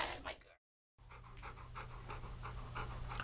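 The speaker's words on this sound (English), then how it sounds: "our demo dog" A dog pants close by in quick, rhythmic breaths over a low background hum, with a brief dropout early on.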